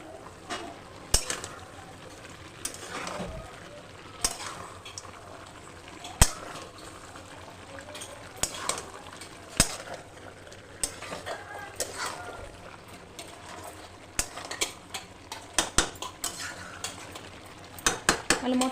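A spoon stirs country chicken curry in a metal pot, with irregular clinks and scrapes against the pot over a low simmering bubble, fairly quiet and close, with occasional voices in the kitchen.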